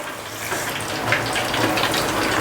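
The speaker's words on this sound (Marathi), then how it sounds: "त्याच्यामध्ये थोडं पाणी टाकूया" Water poured into a cooking pot of gram flour while preparing masoor pak at home, a steady close splashing gush with no talking.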